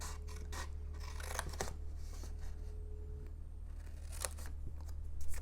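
Scissors snip and scrape through paper, trimming pieces off a folded diagonal flip box. The cuts are quiet and close, with a few distinct crisp snips over a low background hum.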